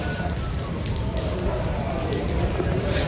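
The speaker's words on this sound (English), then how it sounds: "Started raining again, you guys." Steady rain falls on the streets of San Juan, Puerto Rico, near Castillo San Felipe del Morro, a constant close hiss of drops on pavement with scattered louder patters throughout.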